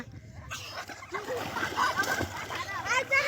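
People bathing in a river splash and slosh water close by in irregular bursts, while voices, including a child's, talk and call out over the splashing.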